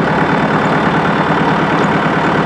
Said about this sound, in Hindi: सिर्फ ट्रैक्टर की आवाज़ आ रही है